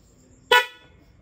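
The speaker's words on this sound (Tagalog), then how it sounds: "Pati itong busina natin gumana" A single short honk from a motorcycle horn, sharp and bright, fading quickly into quiet.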